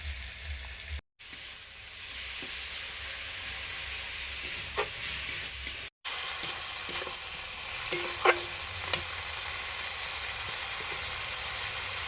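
Fish curry (macher jhol) simmers and sizzles steadily in a pan, a continuous close hiss with occasional faint clinks and stirring knocks, no voices.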